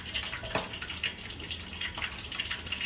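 Liquid pours steadily while a fruit milkshake is being made, a continuous trickle and splash with small drips on top, close and moderately quiet, with no talk.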